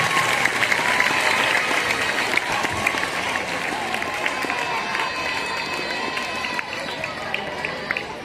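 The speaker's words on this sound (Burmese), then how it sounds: "အမြဲတမ်းအားလုံးရဲ့လက်ခုပ်တန်းကြားပြပါခင်ဗျာ" Sustained audience applause at a Buddhist knowledge quiz competition in Mandalay, dense steady clapping from a large crowd lasting several seconds without break.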